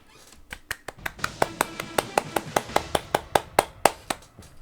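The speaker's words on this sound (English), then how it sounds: "Gotta applaud that." Steady rhythmic clapping from a small quiz night crowd, about twenty crisp claps building in pace and strength before trailing off.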